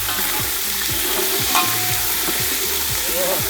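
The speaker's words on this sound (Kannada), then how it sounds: "ಶುಂಠಿ ಬೆಳ್ಳುಳ್ಳಿ ಪೇಸ್ಟ್ ಹಾಕ್ತಾಯಿದ್ದೀನಿ." Ginger garlic paste sizzles and crackles steadily in a hot pan of oil while being stirred, a close, continuous frying hiss with rhythmic scraping throughout, cooked for naati chicken fry at a temple kitchen.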